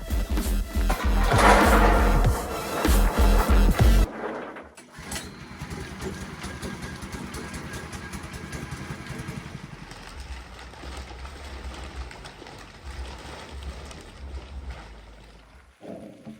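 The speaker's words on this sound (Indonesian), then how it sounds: "Kemudian kita akan memasukkan masuk ke dalam proses mesin pulper" A coffee pulper machine runs while processing coffee cherries: a loud, dense clattering burst for about four seconds, then a steady mechanical rumble and whir that continues and fades near the end.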